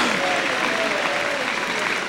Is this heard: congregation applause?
yes